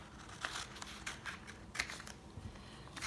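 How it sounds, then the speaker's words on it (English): Scissors cut through pieces of batik fabric with a few quiet crisp snips spaced across a faint, close background, no one talking. "So we're going to cut pieces"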